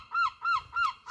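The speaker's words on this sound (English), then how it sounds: "Sorry about the seagull noise." A seagull calls outdoors on a frosty morning, giving three evenly spaced, nasal honking cries in quick succession, fairly faint and with no other sound around them.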